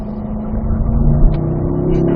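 Race car accelerating hard on the Spring Mountain North Course, a loud, close engine roar climbing steadily in pitch over a couple of seconds with no talk.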